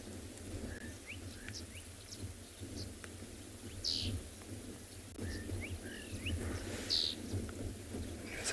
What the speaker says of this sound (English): Some beautiful bird calls in the distance.